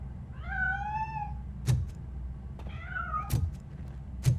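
A cat meows in RoboCop Rogue City, two separate rising-falling cries with short thumps and clanks between them, over a steady low game-ambience rumble.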